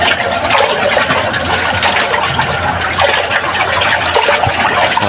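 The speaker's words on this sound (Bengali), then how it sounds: "পানিটা ঘুরাই দে, ওটা দিয়ে" Water in a poultry drinking-water tank is stirred to mix in vaccine, giving a continuous, fairly loud swishing and sloshing of liquid with no talk.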